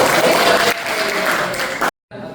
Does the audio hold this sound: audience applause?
yes